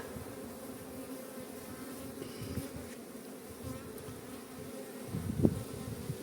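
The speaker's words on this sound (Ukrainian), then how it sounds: "бджоли там порядок наводять" Honey bees drone steadily around hive frames during queen-rearing preparation, a continuous low buzz throughout with a brief louder swell near the end as bees pass close.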